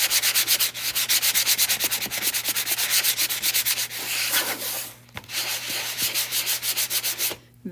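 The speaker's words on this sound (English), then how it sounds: "I do want to do a little sanding on here" Rapid rhythmic rasping strokes of sandpaper rubbing a painted surface, quick and close, with a couple of brief pauses.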